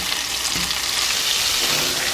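Steady, crackling sizzle of battered chicken frying in hot oil, fairly close and continuous, with no voices.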